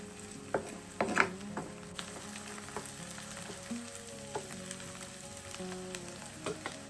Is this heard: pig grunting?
no